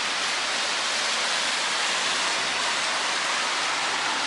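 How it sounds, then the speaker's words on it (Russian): Rain falling outdoors on a street in Brest, a dense, even hiss that holds steady and fairly loud throughout, with no voices. "дождь пошел"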